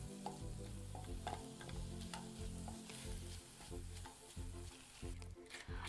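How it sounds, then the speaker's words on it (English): Mushrooms sizzle loudly in a pan with soy sauce and tomato puree while being stirred, with a dense frying hiss broken by repeated scraping pulses, close and with no talk. "Add 1 tablespoon of tomato puree and stir well to coat the mushrooms evenly."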